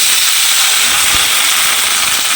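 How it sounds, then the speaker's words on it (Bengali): Tender bottle gourd tipped into hot ghee, giving a steady, loud broadband hiss of sizzling that holds evenly throughout with no talking. "এবারে এই লাউটা আমি ঘিয়ের মধ্যে সমস্তটা দিয়ে দিলাম"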